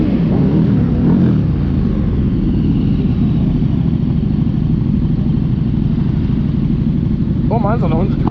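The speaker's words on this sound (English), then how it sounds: "I'm doing baby revs next to him." A car engine rumbles loudly close by with low revving throughout at a car meet, joined near the end by a brief voice.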